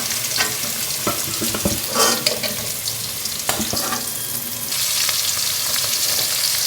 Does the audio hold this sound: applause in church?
no